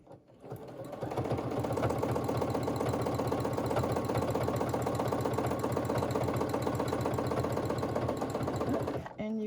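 A Baby Lock Lyric sewing machine runs continuously while free-motion quilting, producing a fast, even mechanical stitching rhythm that starts after a brief pause and stops just before the end, close and loud.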